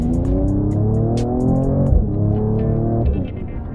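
Mercedes-AMG E53 engine in sport mode, a deep throbbing drone rising in pitch as it revs under acceleration, loud and close, then easing off toward the end.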